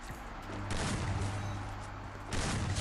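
Gunfire in the mobile shooter Free Fire, a dense rattling barrage of rapid shots that swells loud, dips briefly, then surges again, heard alone without talk.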